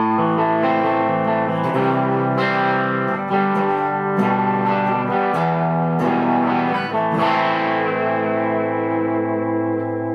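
Heavily distorted electric guitar with a humbucker pickup through a modded Boss DS-1 pedal, playing sustained chords and notes, loud and saturated with a thick, buzzing tone and some echo, no voices.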